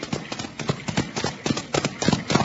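Horses draw near with hooves clip-clopping in a brisk, uneven rhythm of many close, loud hoofbeats, with no speech on top.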